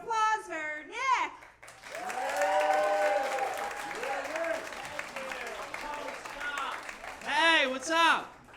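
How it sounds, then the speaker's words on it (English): A stand-up comedy show audience in New York breaks into loud, sustained applause and cheering as the host is welcomed to the stage, with whoops and voices rising above the clapping throughout. "Let's give a big round of applause for Nick"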